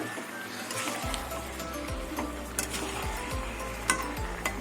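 Spiced food with turmeric and ginger is stirred in a pan, a soft continuous scraping and faint sizzle with a few light clinks of a utensil against the metal, nearby and without speech.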